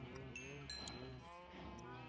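Cattle in the Minecraft video game give repeated moos in a livestock pen, several calls overlapping at a steady level with no speech over them.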